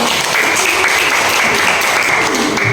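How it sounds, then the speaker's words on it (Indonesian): Classmates in a school classroom clap for a student group about to present, a steady, fairly loud burst of many hands applauding that lasts the whole moment. "kita berikan dulu tepuk tangan untuk kelompok damai"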